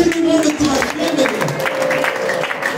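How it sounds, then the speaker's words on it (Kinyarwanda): Wedding guests at Pacific and Alexia's Rwandan wedding clap and raise high, wavering ululations: loud, close celebratory cries ride over a bed of scattered applause. "amashyi menshi n'impundu tubashimire"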